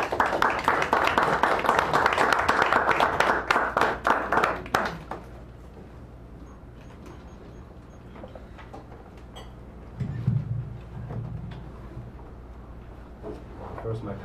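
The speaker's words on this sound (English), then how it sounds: "So, give Mr. Coleman a nice warm applause" A poetry reading audience at a San Francisco café gives loud, dense applause for about five seconds, then it stops and quiet room tone follows with brief soft voices and shuffling.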